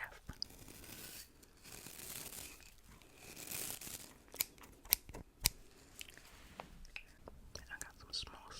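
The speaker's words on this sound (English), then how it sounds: "I got some small scissors for the fine hairs." Small scissors snip close during a barbershop haircut roleplay, delivered as quiet ASMR with soft whispering, a few sharp crisp cuts standing out among gentle rustling.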